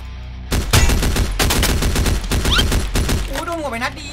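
Rapid bursts of gunfire from the Free Fire Max video game, loud and close, firing in quick repeated volleys for several seconds with a brief gap near the end.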